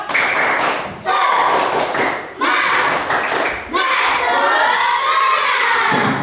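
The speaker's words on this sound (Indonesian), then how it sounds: "Tepuk semangat." Children in a classroom do a rhythmic spirit clap routine, bursts of clapping and thumping with shouted chanting in repeating phrases, loud and close, ending in a sustained group chant.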